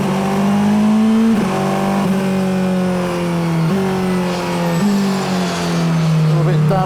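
Porsche on a damp track accelerating hard through the gears, engine rising in pitch with sharp drops at each of several upshifts, loud and close from inside the car.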